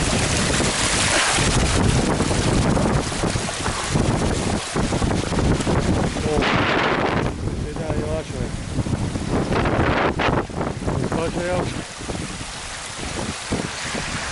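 Strong wind buffets the microphone near the summit of Carrauntoohill, Ireland's highest peak, a loud continuous roar with gusty surges throughout.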